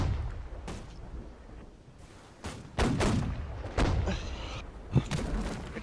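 Ship cannon fire in the naval battle game Holdfast: Nations at War, several heavy booming blasts and thuds spread irregularly over a low rumbling background, some near and loud, others duller.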